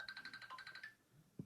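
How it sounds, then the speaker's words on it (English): A Facebook Messenger incoming call ringtone chimes faintly in a quick series of bright repeating tones, ending with a soft low thump. "That was a phone call from Facebook Messenger."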